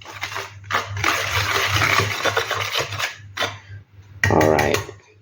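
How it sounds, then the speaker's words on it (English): Quick whisking of flour and other dry ingredients for an eggless vegan banana cake, a busy scraping rustle in bursts with short pauses, fairly close and loud. "I'm just going to quickly whisk them together to combine quickly."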